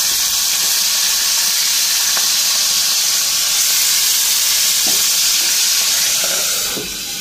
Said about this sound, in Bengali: এটা আগে মাছটা ভাজা বসাই